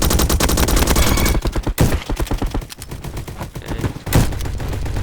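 Rapid automatic gunfire from a B90 gun in a video game, a dense fast rattle of shots with a brief pause partway through, then continuing bursts, loud and close with no voice over it.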